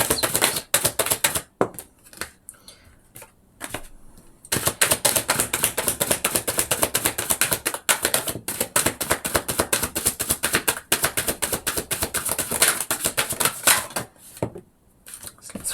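Tarot cards are shuffled by hand, giving dense, rapid riffling and slapping bursts close up with brief pauses between rounds, each round running several seconds; no talking.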